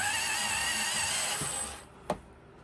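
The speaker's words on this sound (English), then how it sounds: "I'm gonna just sharpen my pencil." A drawing pencil being sharpened, a steady close whirring grind that stops after about two seconds, followed by a single light click.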